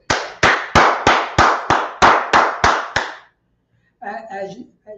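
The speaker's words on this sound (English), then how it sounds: "Let's clap it up for the Lord." A Hebrew language class claps hands together in unison: about ten sharp, evenly spaced claps ring out loud and close, followed by a short silence and then a voice speaking.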